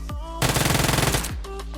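Automatic gunfire in PUBG Mobile: one rapid, close burst of roughly a dozen evenly spaced shots lasting under a second, framed by brief in-game whooshing sounds before and after.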